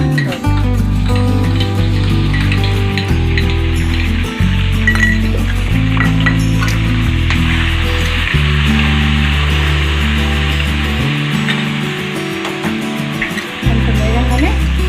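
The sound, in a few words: frying whole spices and ginger garlic paste in oil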